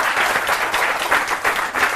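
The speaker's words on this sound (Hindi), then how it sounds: "बहुत सुंदर, जोरदार तालियां।" Audience applauding loudly and steadily at a New Year poetry gathering, a dense continuous clatter of many hands with no voices over it.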